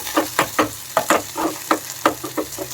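Onion and garlic frying in hot ghee in a pan, stirred in repeated scraping strokes over a steady sizzle, close and fairly loud with no talk.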